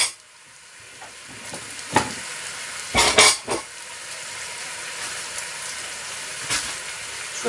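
Bacon frying in a pan, a steady close sizzle with scattered louder pops and crackles, including a brief burst of sharp spatters partway through, no talking.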